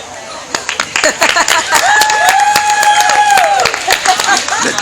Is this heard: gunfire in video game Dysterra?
no